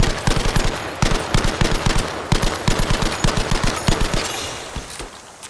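Rapid machine gun bursts in Battlefield V's Solomon Islands jungle map, loud and close, firing in repeated rhythmic strings with brief gaps before tapering off at the end.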